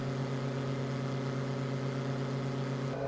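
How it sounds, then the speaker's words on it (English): The Diamond DA20's piston engine in Microsoft Flight Simulator 2020 drones steadily at cruise, a loud, even, buzzing hum with a strong low tone, continuous and close throughout. "This engine's so loud."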